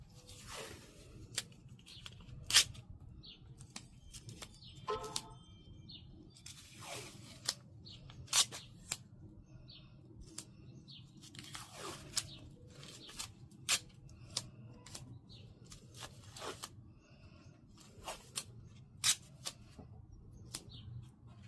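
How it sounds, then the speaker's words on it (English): Strips of tape being cut and handled while preparing to install a hood emblem on a 2023 Mitsubishi Eclipse Cross, heard as scattered sharp snips and crinkly clicks, close and fairly quiet over low background hum. "you want to have your pieces of tape already cut"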